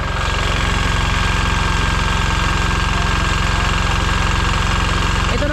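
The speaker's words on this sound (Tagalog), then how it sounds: "Ito naman yung makina ko sa mixer." Concrete mixer engine idling nearby with a steady, loud mechanical drone and a fast regular knocking pulse, unbroken throughout and without talk.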